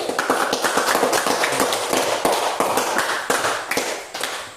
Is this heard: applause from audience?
yes